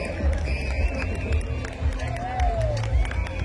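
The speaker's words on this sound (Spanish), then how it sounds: "Palmas de respetable público." Crowd clapping and cheering for a comparsa troupe's greeting at a festive parade event, scattered claps and voices amid loud crowd hubbub and low rumbling, with a voice rising over the noise.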